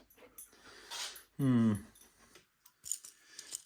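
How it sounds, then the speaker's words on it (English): A dog comes over to play near a model railway layout, giving a short whimpering yip amid quiet scraping and small tool clicks, close by and fairly soft. "Oh, here comes the dog. You've come to play, I see."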